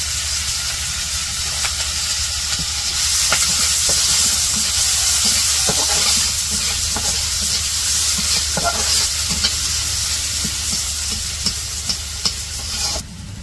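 Onions and green chillies fry in hot oil in a wok over a village kitchen fire, a loud continuous sizzle with bursts of crackle and stirring scrapes, close and without speech.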